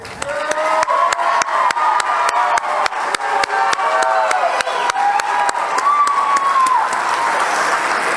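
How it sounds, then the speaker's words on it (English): A pageant audience gives a full round of applause for state costume entries, with loud, sustained clapping and sharp individual claps over a faint tonal background throughout. "Please give them one more round of applause."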